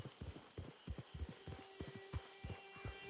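Horse hooves clip-clopping in the Western online game Red Dead Online, a steady rhythmic trot of hoofbeats at moderate distance, playing alone without talk.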